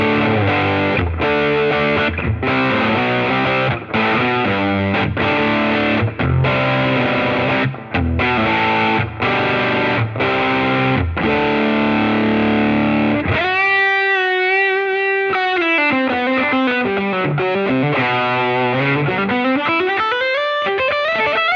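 A distorted electric guitar through an FM3 effects unit plays chugging chords, then shifts into sustained bending lead notes, loud and saturated.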